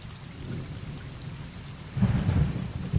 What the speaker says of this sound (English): there's just some thunder going on in the background and some rain noises